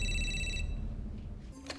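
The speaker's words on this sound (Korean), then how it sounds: "그리고 그때 조그에게 한 통의 전화가 걸려오죠" A telephone rings in the science-fiction film The Fifth Element, giving one short, bright electronic trill up close that cuts off quickly into quiet room tone.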